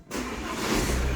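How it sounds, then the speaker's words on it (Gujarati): A car is driven out, its engine running steadily and building slightly in a broad, close rumble that fills the short stretch without any talking. "જો રાજ એ ગાડી પણ કાઢે"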